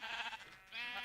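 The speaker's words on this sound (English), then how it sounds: "I just passed the sheep farm" Sheep bleating at a sheep farm in a video game, two moderately loud wavering bleats separated by a brief dip, with no talk.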